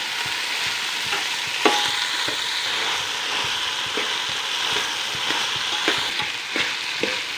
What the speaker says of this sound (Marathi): ह्या सगळ्या भाज्या आता चांगल्या परतून घ्यायच्या आहेत